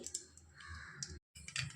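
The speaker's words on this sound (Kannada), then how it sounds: "ಸಾಸಿವೆ ಸಿಡಿತಿದೆ" Mustard seeds spluttering in hot oil in a pressure cooker, the start of a fresh avarekalu sambar: dense, crackly popping and sharp ticks throughout, cut by a short silent break before the crackling resumes.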